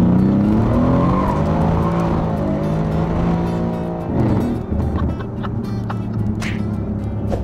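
A car doing a burnout, tires squealing and skidding loudly under a roaring, revving engine, with the pitch rising and falling before the squeal breaks into scattered screeches.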